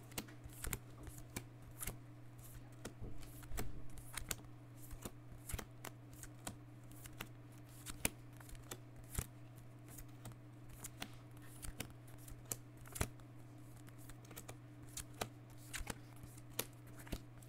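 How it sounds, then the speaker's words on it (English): A deck of trading cards for the MetaZoo cryptid card game is pile shuffled. Quick, light card taps and flicks repeat steadily as cards are dealt onto piles, close and quiet over a low background hum. "I'm gonna go ahead and pile shuffle this"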